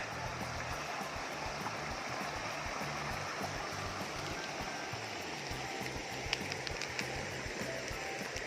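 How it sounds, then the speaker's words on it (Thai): Continuous rushing water flowing from a spillway beside a fruit orchard, a steady broad roar with faint clicks and ticks scattered over it. "ได้ยินเสียงน้ำไหลแว่วๆนะคะเนี่ย มาจากฝ่ายน้ำล้น"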